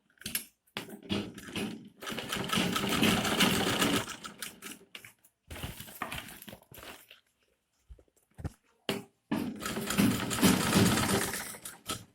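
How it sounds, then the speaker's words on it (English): Sewing machine stitching around the base of a handmade fabric handbag, running in several close, loud bursts of rapid needle chatter separated by brief pauses and short clicks. "So I will just sew this all around the base."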